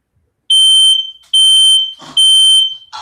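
A smoke or fire alarm goes off indoors, loud shrill beeps in three long bursts with short gaps, heard alone without talk.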